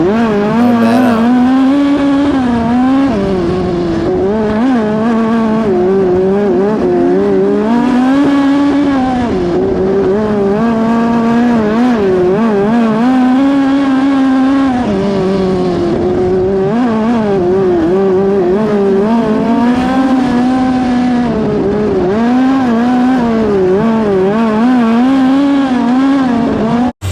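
The 7X race car at Macon Speedway roars loud and close for the whole stretch, its engine note rising and falling steadily as it accelerates down straights and eases into turns, with no one speaking.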